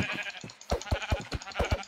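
Sheep bleating in the Minecraft video game, a run of short repeated bleats close up, several overlapping calls in quick succession with no talk.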